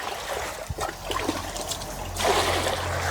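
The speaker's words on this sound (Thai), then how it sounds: "ล้างถ้วยไปด้วยค่ะ" Bowls are washed under running water, with a steady trickle and splashing close by that swells louder toward the end.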